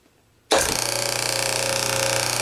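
A DOL starter contactor latches with a sharp onset, then the motor starts and runs with a steady, loud mechanical hum and rapid pulsing buzz that continues unbroken.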